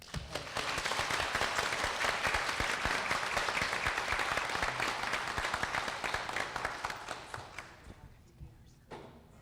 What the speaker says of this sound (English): Can we get another round of applause for Asia for being so brave?